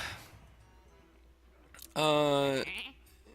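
A single loud, wavering video-game sheep bleat rings out clearly after a stretch of quiet speech.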